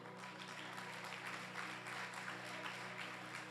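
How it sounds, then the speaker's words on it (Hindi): A church congregation gives a soft spread of applause beneath a steady low hum, the clapping faint and continuous throughout. "ताली बजा दो ये नवा से।"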